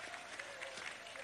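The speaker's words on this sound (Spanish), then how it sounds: "Un aplauso a Jesús Martínez, apóstol del socialismo venezolano." Brief burst of crowd applause from workers gathered at the presidential palace, heard faint and distant as a steady wash of clapping.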